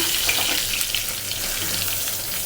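A short burst of thin fish slices frying in oil: an even, close crackling sizzle with a faint low hum beneath it and no voices.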